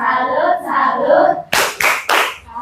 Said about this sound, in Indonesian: Tepuk tangan, tepuk salut.